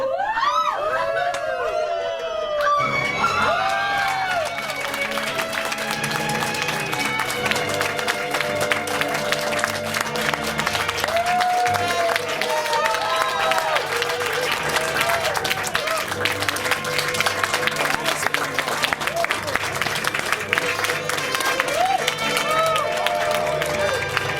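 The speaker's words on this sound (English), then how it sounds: "That was the spicy clap." An audience at a live stage performance claps and cheers loudly and steadily for over twenty seconds, with a few voices rising above the dense applause.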